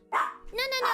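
A dog gives two or three sharp barks close to the microphone, short and loud bursts in quick succession, with a brief gap between them.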